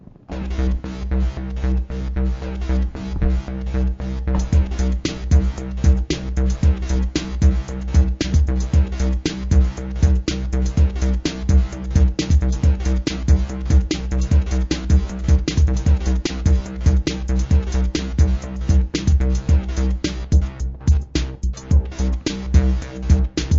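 Steady synthesizer arpeggio from a Roland Fantom X keyboard workstation pulsing over a locked drum beat with deep bass, running continuously and loud throughout.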